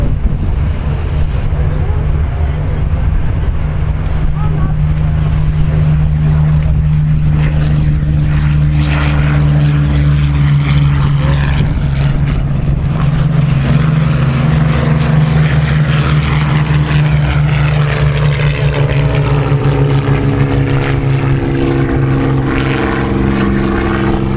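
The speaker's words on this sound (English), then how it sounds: "rolling off the grass runway, as would have been the case so often in the summer of 1940, a formation of Hawker Hurricanes" A formation of Hawker Hurricane fighters rolls off a grass runway at an airshow, the loud, sustained droning roar of their piston engines and propellers filling the air steadily and swelling as they pass.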